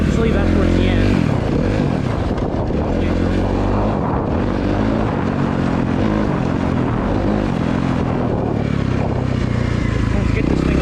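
Suzuki RMZ250 dirt bike, 2023 model, warming up: a loud, continuous engine drone with rising and falling pitch from throttle blips, heavy wind buffeting and what sounds like talking mixed in.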